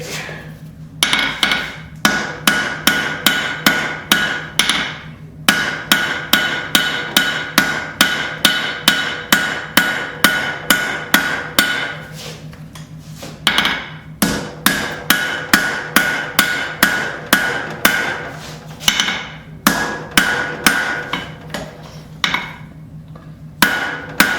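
Hammer blows forge a fillet knife blade, drawing out the steel: rapid, rhythmic ringing strikes on the anvil in long bursts with short pauses, close and loud, with no talking.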